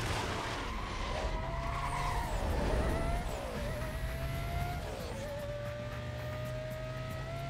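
Race cars in Need for Speed Most Wanted, a Mercedes SLR and Porsche Carrera GT, engines droning as tires skid and squeal through sustained sliding turns, loud and continuous with rising and falling pitch.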